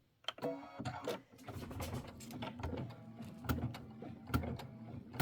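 Embroidery machine stitching a Kimberbell mini quilt block, a steady mechanical whir with rapid needle ticks and occasional sharper clacks, fairly close and moderately quiet, running continuously without talk.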